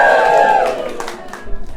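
An audience at a comedy show cheers loudly in a short burst that fades quickly into scattered crowd noise.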